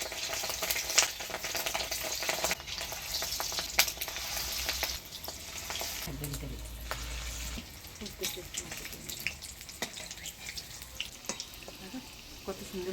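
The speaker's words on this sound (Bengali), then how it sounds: "এবার মাছের ডিমের বড়াগুলো ভেজে নিব।" Fish roe fritters frying in oil, a continuous close sizzle and crackle with occasional utensil clinks, faint background noise throughout.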